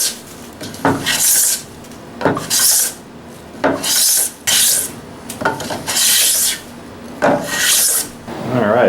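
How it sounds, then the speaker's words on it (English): A hand plane shaves wood on a large Japanese-style planing board in about seven rasping strokes, each a distinct scraping swipe separated by short pauses, close and clear. "I am glad to be making some shavings on this, because every little shave is a little bit of progress."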